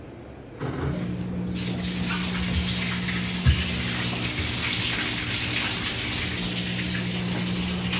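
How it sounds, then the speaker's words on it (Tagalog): A washing machine that has been showing error E1 pumps out its water. A motor hum starts, then a steady rushing gush of draining water follows and carries on evenly and close by. "I-drain muna natin tubig"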